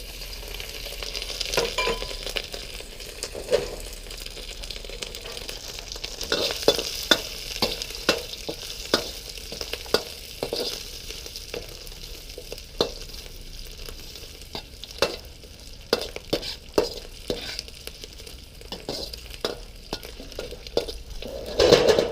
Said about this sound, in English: I'm gonna do the oil here, and I'm gonna cook my sausage first.